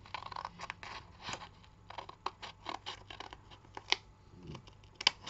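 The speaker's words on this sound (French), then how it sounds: "vous allez couper tout simplement jusqu'aux 2 cm" Scissors cutting paper for a pop-up flower bouquet card, a rapid run of close, crisp snips and rustling paper scrapes, fairly quiet, with no talking.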